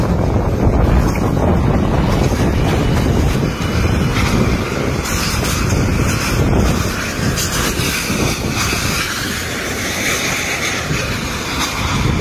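Strong wind gusts roar continuously and close by, a dense buffeting rush that swells and eases slightly across the span with no voices.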